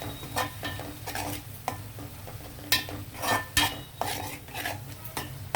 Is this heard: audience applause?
no